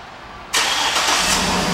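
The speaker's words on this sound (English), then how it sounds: "And the car starts right up." A 2008 Cadillac Escalade AWD engine fires up by remote start after a quiet moment, a sudden loud crank that settles straight into a steady idle, with no talking.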